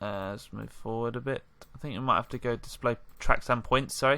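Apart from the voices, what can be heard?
No everyday noise stands out behind the speech.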